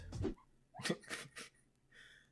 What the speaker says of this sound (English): She's making her little dog noises right now.